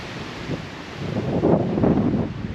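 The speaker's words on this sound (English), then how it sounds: "this wind is still just ripping" Strong spring wind on an Ontario bear hunt, roaring and buffeting against the microphone in rising gusts, loud and close with no voices.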